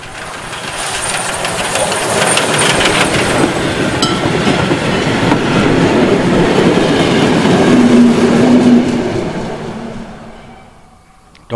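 A shuttle train rolls over three-rail track toward Lauterbach at a station festival in Putbus with special trains, a loud, close rumble with rhythmic clickety-clack that swells as it passes and then fades quickly at the end.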